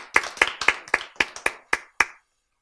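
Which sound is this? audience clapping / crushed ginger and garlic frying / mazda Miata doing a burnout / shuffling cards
audience clapping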